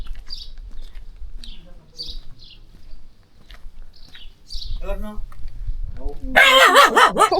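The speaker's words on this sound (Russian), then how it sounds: "во дворе злая собака" A dog barks sharply and repeatedly from a yard in the mountain village of Sauris in the Italian Alps. The barking comes in loudly after people talk quietly nearby and a few birds chirp.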